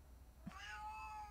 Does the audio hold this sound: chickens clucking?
no